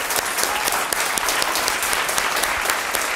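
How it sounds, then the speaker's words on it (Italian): A studio audience on an Italian variety show breaks into steady, dense applause for a guest named Peppino, with many hands clapping continuously at a fairly close, even level throughout. "vi esorto a fare un grande applauso"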